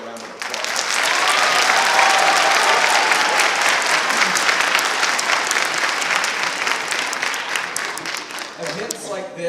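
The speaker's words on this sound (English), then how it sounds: "if you would give your child's music teacher one more round of applause" An audience at a school all-county chorus concert breaks into a loud, sustained round of applause that swells quickly and holds steady before tapering near the end.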